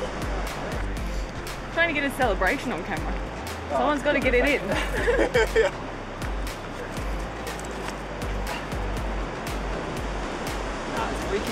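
Steady rushing water of a river along the Salkantay trek, a broad continuous wash, with people talking and shouting over it near the start before the flow carries on alone.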